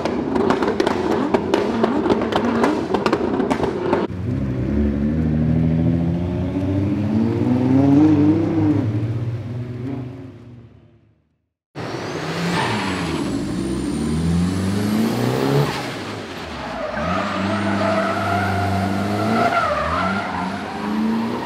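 A drift car at the NMS Festival in Singapore screams through high revs, bouncing off the rev limiter in rapid stuttering pulses, then drops briefly silent before roaring back with tire squeal and wavering engine pitch, loud and near.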